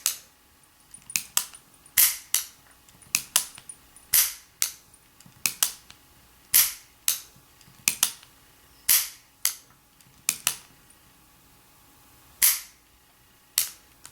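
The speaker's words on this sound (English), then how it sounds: "Six rounds have been shot" Ruger New Model Blackhawk stainless .357 Magnum revolver letting off a rapid series of sharp, crisp reports, a couple of dozen quick cracks in uneven clusters with brief gaps, each one loud and standing alone with no talk.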